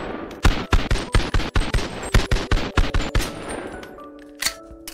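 Glock meme gun in the VR game Bonelab firing a string of punchy, loud, close shots in an uneven rapid rhythm for about three seconds, followed by quieter clicks and metallic handling sounds.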